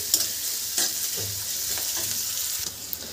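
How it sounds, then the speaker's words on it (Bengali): Onions frying in a pan until light brown for an egg and chicken curry, a steady close sizzle with occasional scraping stirs of a spatula throughout. "তো পেঁয়াজটা আমরা এখন আগে হালকা ব্রাউন যতক্ষণ না হবে ততক্ষণ আমাদের ভেজে নিতে হবে"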